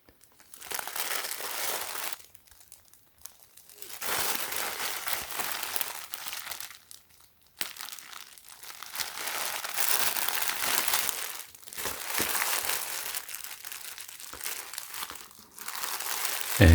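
Plastic bag packaging for a Supreme x Honda x Fox moto jersey crinkles and rustles in bursts as it is handled up close, broken by brief quiet gaps.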